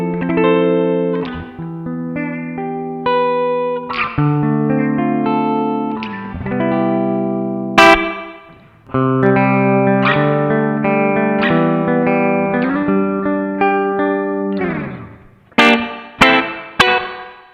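Electric guitar played through a BOSS RV-6 reverb pedal in room mode: a run of chords and single notes, each ringing with a short, tight reverb that cuts off quickly, ending in a few sharp plucked accents.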